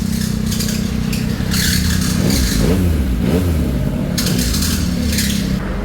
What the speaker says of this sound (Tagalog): Pwede ko i-rev?